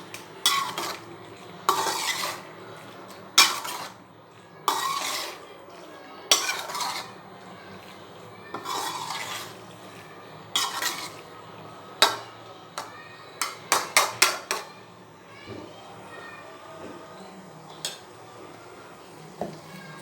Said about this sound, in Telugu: ఈ పాస్తా అంతా కూడా వేసినాక ఒకసారి ఇలా తిప్పేసేయండి